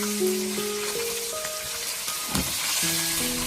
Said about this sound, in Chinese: 将黄鱼煎至两面金黄就可以了